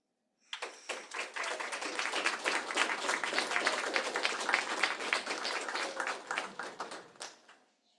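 A conference audience at a live technology demo session breaks into dense applause lasting about seven seconds, rising quickly, holding steady and loud, then tapering off, with no voices over it.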